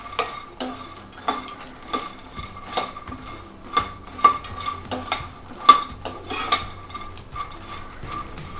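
Makhana foxnuts dry roasting in a pan, with light scraping and stirring clinks and the seeds rattling against the metal in an irregular rhythm, close and fairly quiet.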